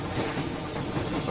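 Steam locomotive hissing aboard a train in the video game Metro Exodus, a steady broadband hiss with low rumble running throughout, continuous and fairly loud with no voices.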